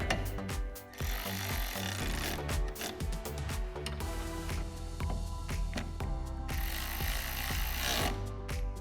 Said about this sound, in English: And now I'll take my T30 Torx bit on an electric ratchet and snug that bolt up.